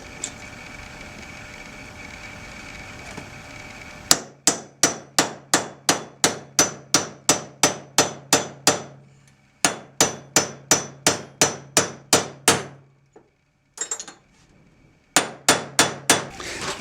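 A hammer drives an outer bearing race into the hub of a 1987 Porsche 944 with a bearing placement tool, a long series of sharp, evenly spaced metallic clanks in quick rhythmic runs broken by short pauses.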